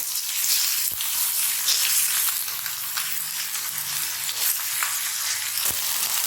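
Onions and tomatoes sauté in oil for a tamarind curry with drumsticks, giving a loud, continuous close-up sizzle with a few faint clicks of stirring.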